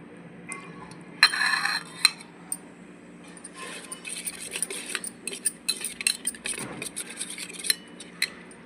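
Spoon stirring semolina with milk and curd in a bowl, giving scraping, rubbing strokes with occasional clinks against the bowl, close and fairly loud, no talk heard.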